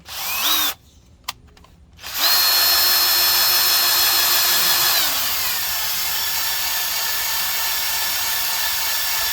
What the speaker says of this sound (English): So I'm going to go ahead and drill this one out.